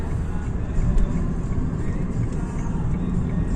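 A car engine revs up steadily as a learner driver presses the accelerator during a night driving lesson, a continuous rumbling drone heard from inside the cabin.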